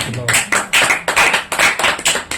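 A church congregation claps hands together in a steady rhythm, roughly eight loud bursts in quick succession, close and prominent with voices mixed in.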